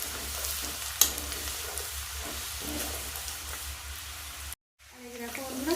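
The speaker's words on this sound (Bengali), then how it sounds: "এর মধ্যে এবারে পেঁয়াজ দিয়ে দেবো, আর একটু লাল লাল করে ভাজা হোক" Onions sizzle and fry in hot oil with ginger and garlic, a continuous crackling hiss with a sharp clink near the start. A brief dropout is followed by a voice speaking over the frying.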